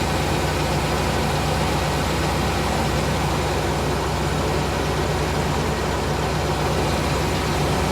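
A 1998 GMC Savana van engine idles steadily with a possible hydraulic lifter tick, a loud, constant low rumble throughout with no talking.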